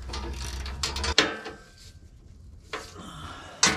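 Ratchet clicking in short bursts as skid plate bolts are tightened on a Ford Bronco during an oil change, close and fairly loud with quiet pauses between runs of clicks.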